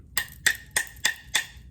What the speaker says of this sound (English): you could even get a rim shot on it